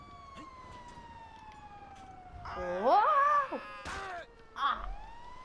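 A wailing fire engine siren rises and falls in a GTA game, sweeping pitch up and down at moderate volume, with a man's brief exclamation breaking in.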